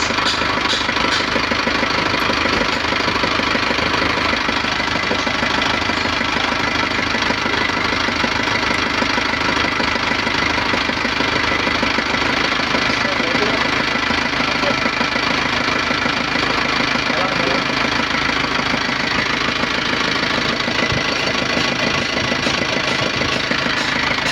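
A Nissan Panther diesel engine runs loud and close with a continuous knocking rumble, held at raised throttle as it is revved, steady throughout with no talking heard.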